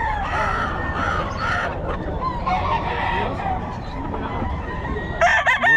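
A Golden Boy gamefowl rooster crows amid steady clucking and barnyard fowl noise, the calls overlapping a dense background, with a louder, nearer burst near the end.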